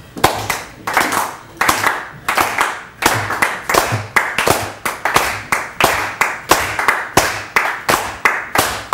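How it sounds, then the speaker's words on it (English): An audience claps together, slapping hands in a fairly even beat that builds into a steady shared rhythm, loud and close, with no talk over it. "try and join with the clapping of the group"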